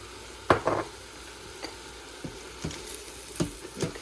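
Garlic, onion, cumin and oregano stirred in a hot pan, with a few sharp scrapes and soft sizzling bursts spaced unevenly, close and moderately loud with no talking.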